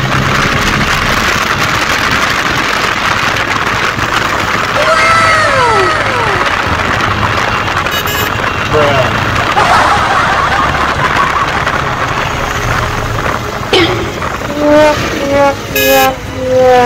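Traffic on a road during a Saraswati Puja group motorcycle ride in Haripal, with engines droning steadily throughout and several sharp horn toots, including a cluster near the end, over wind-like rushing noise.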